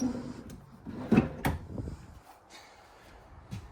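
A plywood drawer slides along its ball-bearing runners and shuts with a couple of soft knocks, followed by quieter handling sounds, in a 2026 Cougar 355FBS fifth-wheel trailer bathroom.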